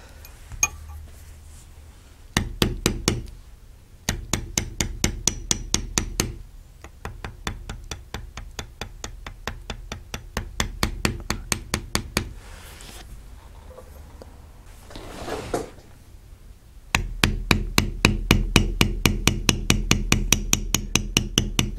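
A metal Craftool crosshatch beveler is tapped on leather with a mallet in quick, even bursts of crisp clicks. The runs of taps are broken by short pauses, and the sound is close and fairly quiet.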